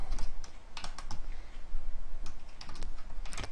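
Keys clatter on a computer keyboard in quick, uneven bursts of close, crisp clicks with brief pauses between runs.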